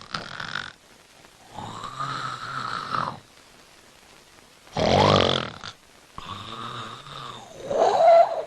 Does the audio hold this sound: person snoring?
yes